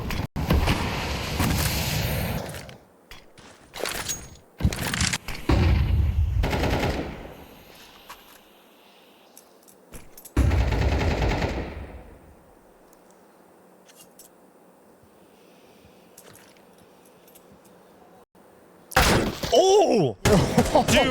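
Gunfire during a professional Counter-Strike match on the Anubis map, loud bursts of shots and impacts in clusters, then a quieter stretch before another sharp burst at the end, with caster talk heard around them.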